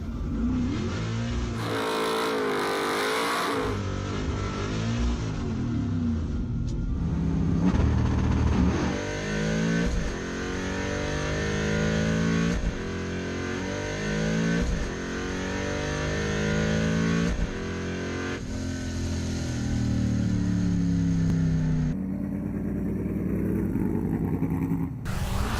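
Race cars rev and accelerate hard at a drag racing event, a loud sequence of rising, gear-shifting engine sweeps repeating one after another, mixed with music and crowd-like noise.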